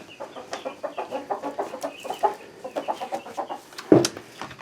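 Chickens clucking close by at a backyard coop, a busy overlapping run of short, bright clucks and murmurs with one louder squawk near the end.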